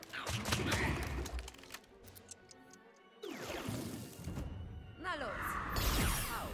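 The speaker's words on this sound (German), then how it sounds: "der Claudius fängt gerade die Schüsse ab" Rapid bursts of gunfire from the video game Mario + Rabbids Sparks of Hope crackle in clusters during a final battle, mixed with whooshing effects and a busy, noisy game soundtrack.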